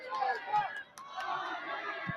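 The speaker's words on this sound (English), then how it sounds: "You can hear the crowd getting a little antsy." A restless soccer stadium crowd at an NCAA Tournament first-round match between Marshall and Elon murmurs and calls out, with an occasional shout, under a commentator's talk.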